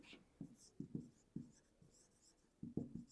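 Pen or chalk writing by hand during a maths lesson on fractions, with short scratchy strokes coming in irregular bursts, quiet and close, and no voice over them.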